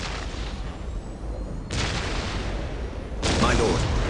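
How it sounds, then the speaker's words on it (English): Ork artillery fire in the video game Warhammer 40K Dawn of War, two heavy distant booms a second and a half apart, each followed by a rumbling roll over steady battlefield ambience. "We will silence that Orc artillery."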